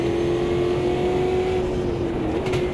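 A race car engine in the sim racing game Automobilista 2, a steady, loud, close droning tone held at a constant pitch with a slight dip near the end.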